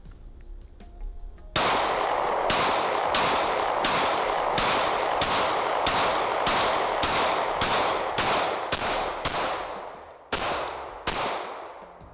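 Glock 19 Gen 5 pistol fired on a shooting range, about fifteen sharp, loud, close shots in a quick irregular string with short echoing tails, starting after a quiet lead-in and with no talk.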